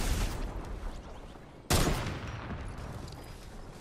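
Rapid bursts of gunfire from a Fortnite match crackle steadily at moderate distance, with one sharp, louder volley cutting in midway before the shooting settles back into a continuous rattling barrage.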